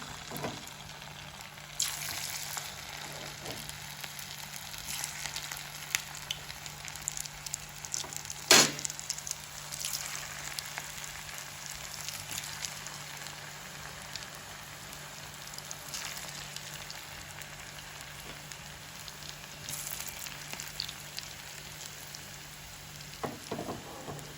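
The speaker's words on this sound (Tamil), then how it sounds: "இப்போ இப்படி நாங்கள் எடுத்து போட்டு பொரிச்சு கொள்வோம்." Pieces of vettupan pakoda, a street-style bread snack, fry in hot oil with a soft, steady crackling and bubbling. The sound is close but quiet, with occasional louder pops and no talk.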